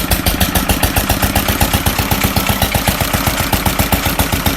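Fairbanks Morse model Z dishpan stationary engine running with throttle opened, a loud rapid regular chuffing beat close by, speed changing only slightly, no talking.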